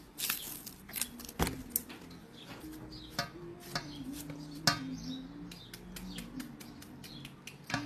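Knife chopping an ingredient on a cutting board for a Thai dish, with irregular sharp strikes close by over a faint tonal background.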